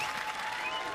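Studio audience applause at a Robot Wars robot combat show, a steady, dense wash of clapping from a large crowd filling the whole moment, with no voices over it.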